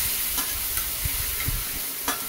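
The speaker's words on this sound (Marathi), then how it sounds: "तेलात तिखट टाकून परतलं ना, तिखट जास्त लागत नाही" Red chilli powder frying in hot oil for a bottle gourd curry gives a steady close sizzle, with a few soft stirring scrapes of a spoon in the pan and no talk.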